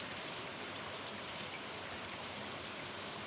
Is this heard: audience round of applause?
no